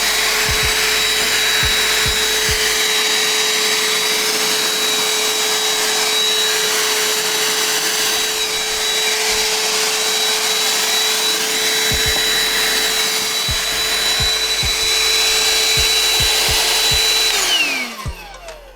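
A Ryobi handheld vacuum cleaner runs continuously while sucking up ashes, a loud steady whine with a high tonal motor note and crackling debris ticks, winding down at the end.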